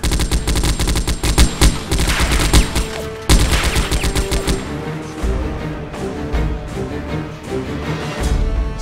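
Loud, sustained bursts of machine gun fire in a Turkish TV drama standoff, rapid cracking rounds rattling continuously for several seconds with a brief break, then sparser echoing shots and more bursts, no voices.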